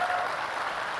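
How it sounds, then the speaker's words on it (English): A conference audience at React India 2022 applauds after a talk, a brief burst of steady crowd clapping heard alone. "One more round of applause."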